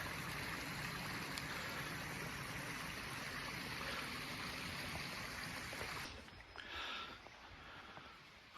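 A small creek in the Bankhead forest feeding into a larger one flows with a steady, faint rushing wash of water that drops slightly quieter near the end, with no voices.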